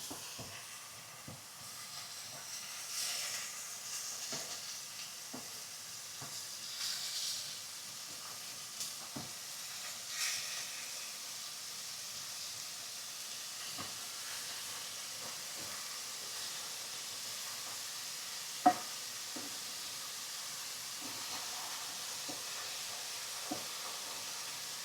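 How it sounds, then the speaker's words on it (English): Center cut bacon sizzles in a pan, a steady faint hiss and crackle over about twenty-five seconds, scattered with small pops and one sharper tick, without any talking. "there's not enough hot grease to save when it comes to center cut bacon"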